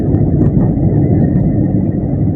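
Steady low engine rumble and road noise from inside a car driven slowly along a road in Hatirjheel at night, close and continuous without a break.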